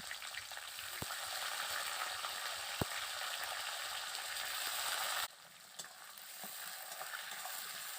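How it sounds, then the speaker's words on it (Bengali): Chopped onion frying in hot oil with white cumin seeds, a steady loud sizzle throughout with a few sharp pops and clinks, dropping suddenly quieter partway through then continuing to crackle, no talking. "এবার দিয়ে দেব পেঁয়াজ কুচি"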